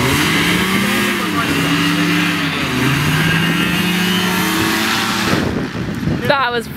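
A hovercraft engine revs loudly and close, its droning pitch rising and falling steadily before a rougher burst near the end.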